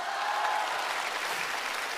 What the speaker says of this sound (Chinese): 认为我颜值高的，鼓掌